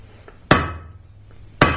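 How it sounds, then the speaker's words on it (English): Two sharp, ringing hammer blows strike hot steel on the step of an anvil to knock off its corners, about a second apart, loud and close with a brief metallic ring after each strike. "So I'm gonna use the step of the anvil here, and I'm knocking off these corners."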